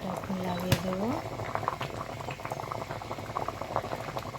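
Thick mango pulp boiling in a pot for aam sotto, bubbling and popping steadily at close range, with a voice talking over it.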